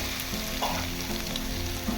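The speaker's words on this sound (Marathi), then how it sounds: "आता ते सुंगटो घालता" Prawns frying in a pan for prawn chops, a dense steady sizzle with occasional stirring scrapes, fairly quiet but continuous and close, no voices.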